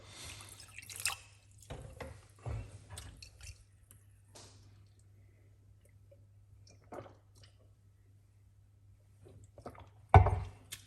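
Water rinses a juicer with scattered drips, splashes and sloshing, mostly quiet with a few louder bursts and a strong final splash, and no talking.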